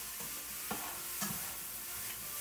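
Egg whites and diced turkey cook in a pan, a quiet steady sizzle broken by a few soft scrapes as a utensil pushes them around.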